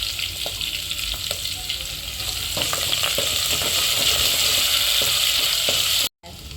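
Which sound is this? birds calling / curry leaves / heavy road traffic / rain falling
curry leaves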